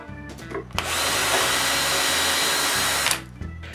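Power drill boring holes into a wooden Coca-Cola bottle box, running in one loud sustained burst of about two seconds, with short lower mechanical thumps before and after.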